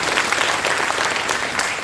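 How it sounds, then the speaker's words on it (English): A crowd claps in a brief, loud burst of dense applause, with no voices over it. "You can clap if you like it."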